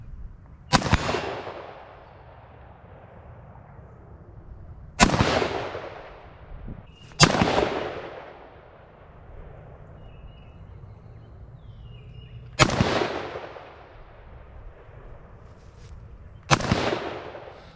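Five loud rifle shots from an IWI Tavor X95 firing Hornady ammunition while being sighted in. The shots come at irregular intervals outdoors, each a sharp crack followed by a trailing echo.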